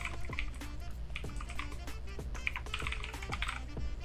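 Close fingers type an email address on a computer keyboard, with a steady run of quick, crisp key clicks and occasional heavier taps, moderately loud and alone with no speech.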